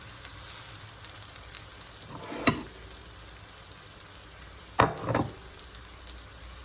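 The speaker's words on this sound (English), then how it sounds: "So we'll get a nice sear on them, and then we'll turn it down" Food searing in a pan for a pantry meal, a soft steady sizzle and frying crackle with a couple of sharper clatters of the pan or utensil.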